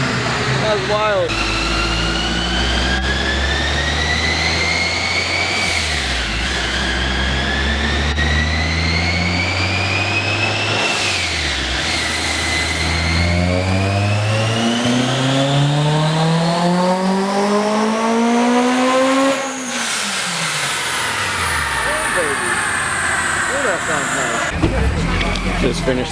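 A boosted Honda S2000 AP2 revs hard on a dyno, its loud engine note sweeping up and down repeatedly before one long climb to a high scream that cuts off sharply and then drops away.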